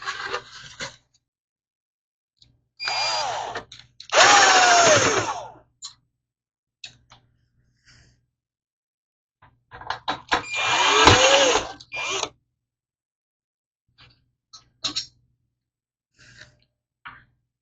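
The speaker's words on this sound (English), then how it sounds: "Now from here, it's just removing some couple more screws here" A power screwdriver whirs in two bursts of about two seconds each while removing screws from a Colecovision console case, with light clicks and handling taps between them.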